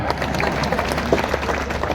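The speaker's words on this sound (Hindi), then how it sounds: "मैंने अगर जवाब सही दिया हो तो एक एक व्यक्ति की तालियां उठे" Applause from a large seated audience at a poetry recital in a college hall, dense continuous clapping filling the whole short stretch, loud and close.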